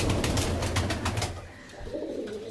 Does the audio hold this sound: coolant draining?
no